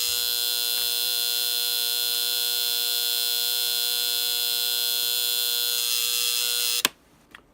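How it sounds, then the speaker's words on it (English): A 1970s Ken-Tech T507 mechanical alarm clock sounds its buzzer, a loud, steady, harsh electric drone held evenly for several seconds before it is abruptly cut off with a click and some brief handling noise. "it has a mechanical buzzer for the alarm"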